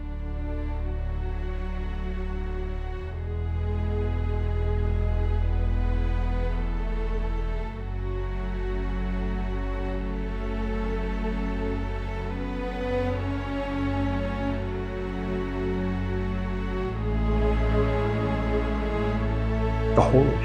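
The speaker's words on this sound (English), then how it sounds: "A single lamenting cello melody over a bed of low male chanting, and the faint sound of a cold wind." An AI-generated cinematic piece of a single lamenting cello melody over a bed of low, droning male chanting, with a cold wind in the background, sustained and steady for about twenty seconds with no talk.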